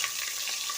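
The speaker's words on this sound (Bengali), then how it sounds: "এরপর তেলের মধ্যে যেটুকু তেল রয়েছে এটার মধ্যে আমি ফুলকপি আলু ভেজে নেব।" Cauliflower and potato pieces frying in leftover oil in a pan, a steady close hiss of sizzling with faint stirring, no voices.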